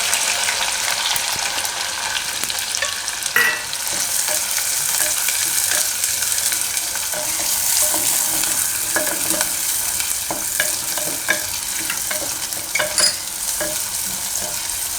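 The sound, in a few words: onions stirred and frying in oil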